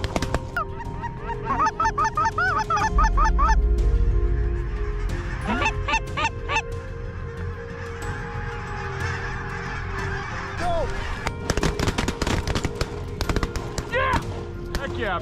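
A duck call blown by hunters imitates waterfowl with rapid bursts of quacking and honking, followed by sharp gunshots and further calling amid outdoor noise.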